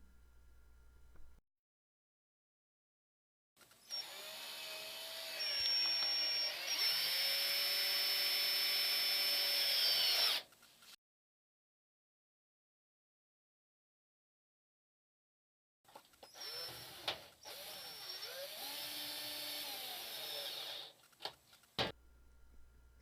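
A power drill drives screws into the control panel of a Kenmore washer, its motor whining in two long bursts with shifting pitch as it speeds up and slows, separated by a stretch of silence, close and clear.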